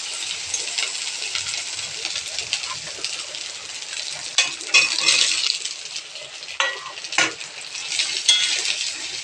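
Potatoes hiss and crackle in hot oil for an egg-and-potato curry while a spoon stirs and scrapes the pan in irregular clinks, loud and close, under a bright steady sizzle.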